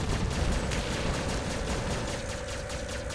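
Robot weapons fire steadily in the War Robots video game, a dense continuous barrage of gunfire rumbling with no gaps for the full few seconds.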